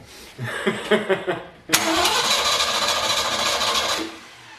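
A flooded Ford 351 V8 engine cranks in a few rhythmic turns, then fires and catches with a sudden roar, running roughly for a couple of seconds before cutting out.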